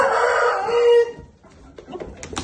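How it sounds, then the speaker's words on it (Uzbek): A rooster crows loudly and close for about a second, a long harmonic call that cuts off, followed by softer clucks and scattered farmyard noises. "Xo'roz"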